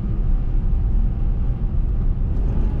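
A V8 Jaguar S-Type accelerating hard in second gear, a loud, steady low engine roar with heavy rumble, heard from inside the car.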